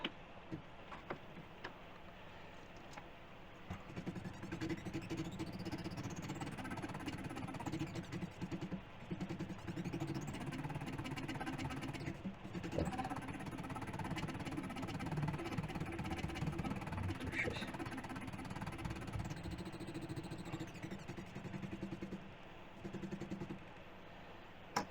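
An electric motor on a motor tester, powered through a repaired YAKO driver, gives off quiet high whining tones that ramp up, hold and fall away several times over a faint ticking, buzzing hum.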